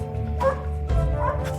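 A dog barks and whimpers close by in a string of yipping, whining calls over a low rumbling background.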